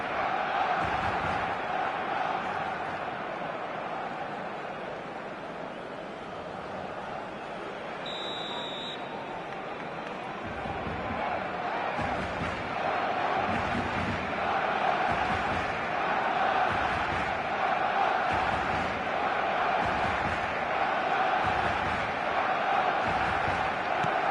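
Dense roar of a football crowd on match day in a stadium, a steady loud wash of massed voices with swelling chants and a brief horn-like tone partway through, continuous for the whole stretch.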